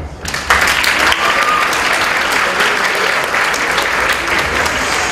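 Sustained applause from a studio audience greets a guest on a Greek TV show, rising sharply after a brief quieter start and staying loud and dense throughout.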